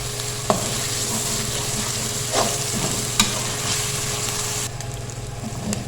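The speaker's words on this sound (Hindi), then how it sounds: "प्याज हमारा बहुत अच्छे से भुन गया" Onions fry for baingan bharta, a steady close sizzle filling the pan, with occasional clinks of a spoon stirring and no talk over it.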